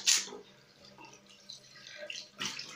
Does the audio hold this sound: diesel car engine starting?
no